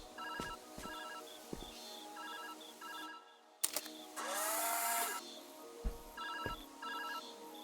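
A telephone rings in the puzzle video game Viewfinder, repeating short trilling bursts of electronic ringing amid game sounds, with a bright whoosh and clicks partway through; fairly quiet overall.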